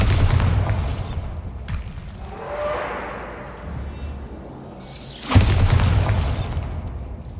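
The Bombarda spell goes off in Hogwarts Legacy with a loud, close blast and rumbling debris, a quieter stretch of lingering rumble following, then a second heavy booming explosion near the end.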